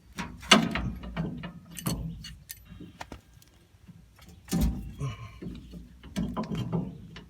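Ratchet working loose 18 mm caliper bracket bolts on a truck's rear brakes, a few bursts of clicking and metallic clatter with pauses between, close and moderately loud, no talking.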